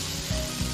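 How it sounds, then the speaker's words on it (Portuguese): Onion frying in olive oil in a heated pan, a close, continuous sizzle with a couple of brief scraping stirs over the crackle. "Hora de acender o fogo e aquecer a panela. Joga o azeite e a cebola,"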